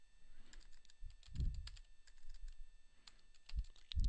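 Fingers type a systemctl command on a computer keyboard on a RHEL/CentOS system, producing a steady run of close, light key clicks with a few heavier thumps, like spacebar or enter presses.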